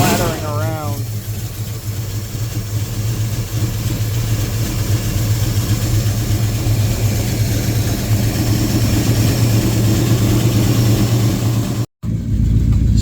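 Running engine of a 1973 Dodge Dart idles steadily and loudly, with a rapid fluttering, slapping rhythm from a loose flapping belt throughout, a brief voice at the start and a short cut near the end.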